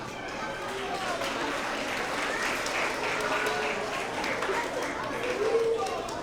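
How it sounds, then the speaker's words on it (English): A crowd at a school award assembly for 3rd to 5th grade students claps steadily, a dense, sustained wash of applause lasting throughout. "let's go ahead and give all of our kiddos another big round of applause, please"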